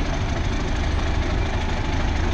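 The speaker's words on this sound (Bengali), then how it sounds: "জয়দেবপুর থেকে ট্রেনটি ছেড়ে যাচ্ছে ঢাকা কমলাপুর এবং এয়ারপোর্ট হয়ে কমলাপুর চলে যাবে ট্রেনটি" A train pulling out of Joydebpur station toward Dhaka Kamalapur by way of the airport, a steady loud low engine rumble with rhythmic throbbing and no talk.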